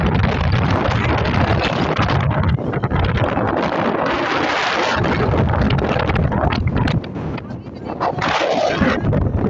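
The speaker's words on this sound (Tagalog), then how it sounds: "ang hangin-hangin na dito." Strong wind on a cruise ship roars steadily against the microphone, a loud continuous buffeting rumble that fills the whole stretch, with faint voices underneath.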